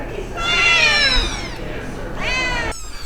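A mother cat and her kittens meow at an animal control shelter, with two long, loud, close calls separated by a pause, as people talk in the background.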